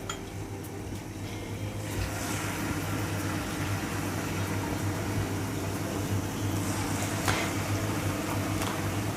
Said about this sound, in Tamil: இந்த சூட்டில் இருக்கும்போது தான் நம்ம மாவு உள்ளே சேர்க்கணும் ஆயிலில்